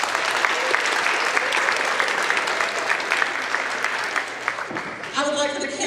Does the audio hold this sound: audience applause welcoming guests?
yes